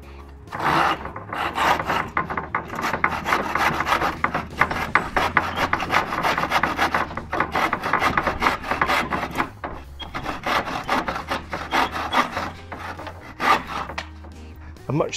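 Hand saw cutting through wood on a flimsy workbench, a steady run of close, loud rasping strokes that continues for the whole stretch, with only short pauses between strokes.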